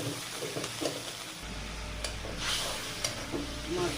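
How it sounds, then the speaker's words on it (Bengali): Ground spices, turmeric, chili and coriander-cumin powder, sizzle in hot oil in a pan. A soft steady fry runs throughout, with occasional scrapes and taps of a spoon as the mix is stirred. No voices. "মশলাগুলো ভালো করে ভেজে নেব।"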